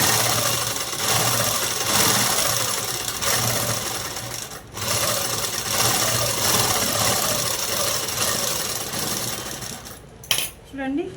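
A sewing machine runs a top stitch on the lining of a long boat-neck frock, its loud, steady mechanical whir continuing almost without a break, then a brief pause and a few clicks near the end.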